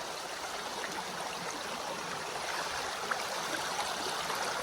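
Cold, shallow stream on the Pinhoti Trail, crossed on foot, giving a continuous close rushing and trickling of water with faint splashes, no talking.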